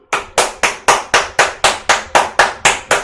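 Steady, sharp hand claps repeat about every quarter second, loud and close, with no voices.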